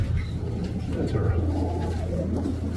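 Pigeons cooing inside a loft of silver and blue bar birds, a steady low murmur of coos over a continuous background hum, with indistinct human voices mixed in.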